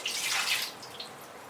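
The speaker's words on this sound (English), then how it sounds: "And same thing we're going to do with the lota. We're just going to go ahead and rinse him out." Water splashes and trickles while a brass lota is rinsed, a soft, brief hiss of running water that fades to a faint drip.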